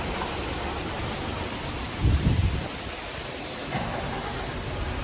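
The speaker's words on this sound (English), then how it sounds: "It's raining." Steady rain falls in a constant broadband hiss, with a brief louder patter or rumble swelling around the middle and a smaller surge near the end; no voices.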